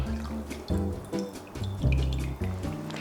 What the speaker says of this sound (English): We're now going to hold the cheese and pour off that extra whey.